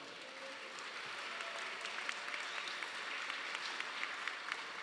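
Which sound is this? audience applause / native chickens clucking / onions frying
audience applause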